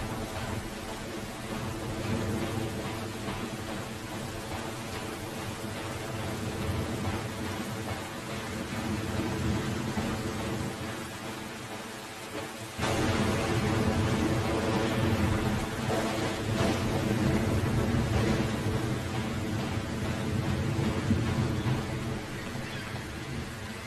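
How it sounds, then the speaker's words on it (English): Heavy, pounding rain with rolling thunder in the video game No One Lives under the Lighthouse, a loud continuous downpour that swells sharply midway as a thunderclap hits, no voices. "This is super aggressive rain,"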